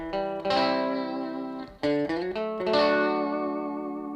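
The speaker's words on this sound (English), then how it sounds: "That's neck position. Now listen to that great Gretsch twangy." A 1968 Gretsch 6120 Chet Atkins Nashville electric guitar on its neck pickup plays a twangy, biting phrase of sustained notes and a few quick changes, close and loud with no reverb, and no one speaks over it.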